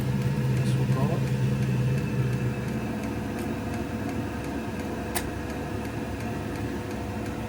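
A Vevor diesel heater running with its intake muffler fitted gives off a steady, even mechanical hum and whir with a faint tonal whine, loud throughout with no clear breaks.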